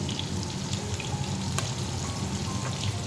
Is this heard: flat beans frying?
yes